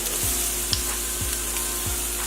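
Shrimp in a sugar marinade sizzling and caramelizing on a grill, a steady close frying hiss with a few soft taps as pieces are moved.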